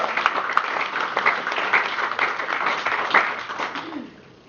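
Church congregation applauds during a sermon, a moderate spread of clapping with some voices mixed in, tapering off near the end.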